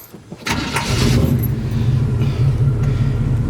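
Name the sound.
1986 GMC High Sierra pickup engine starting and running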